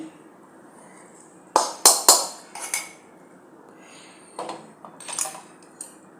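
Metal spoon scrapes and clanks against a pan while roasted coconut is removed, several sharp clatters in two clusters, close and without talking.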